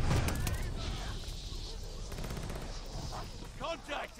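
Gunfire in the video game Call of Duty: Vanguard, a DLC weapon in a multiplayer hardpoint match, with repeated shots and bursts over game sounds and someone talking throughout.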